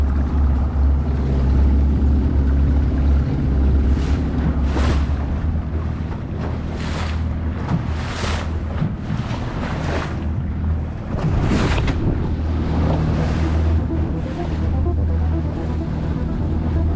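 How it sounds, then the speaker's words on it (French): Choppy sea with a light swell and wind heard from a fishing boat, a steady rumble of wind and water with repeated splashing wave bursts, fairly loud and continuous without talk. "Il y a un petit peu de houle et un peu de mer du vent."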